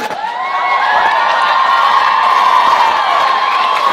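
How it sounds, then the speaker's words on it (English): A comedy club crowd cheers and applauds loudly for a few seconds, a dense steady wall of clapping mixed with whoops and shouts, with no talking over it. "Why are you applauding?"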